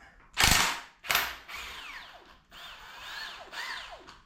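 An impact wrench with a 22 mm socket removes the crank bolt from a Mitsubishi 6G74 DOHC engine during a teardown, giving two sharp rattling bursts and then softer whirring spins, close by.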